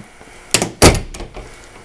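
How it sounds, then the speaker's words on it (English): A door closes during a water heater replacement job, giving a light knock followed by a heavy, close thunk and a brief rattling settle, with no talk. "I'm going to close the door."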